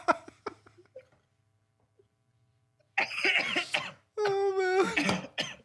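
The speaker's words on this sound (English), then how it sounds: "I'm laughing so hard that my smoker's cough is coming out." Harsh, raspy smoker's coughing bursts from a person who is also laughing. Scattered small coughs come first, then a pause, then two loud, wheezy fits of hacking mixed with strained laughter, close up.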